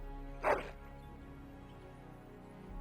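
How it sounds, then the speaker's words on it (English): A single short dog bark from the hound in Dragon Age Origins, close and clear, followed by a quiet low ambient hum. "That is a wonderful dog."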